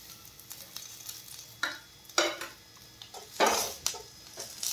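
Curry leaves and green chillies frying in hot oil in a pan, a soft sizzle broken by several louder crackling bursts and a few light utensil clinks, close and without talk.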